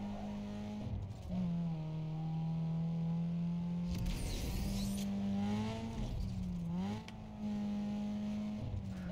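Race car engine in the video game Need For Speed Underground 2 revving with a loud, steady drone that rises and falls through shifts, broken by a harsh burst of noise in the middle and another short dip near the end.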